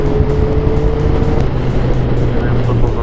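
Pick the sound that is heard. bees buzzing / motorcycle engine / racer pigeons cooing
motorcycle engine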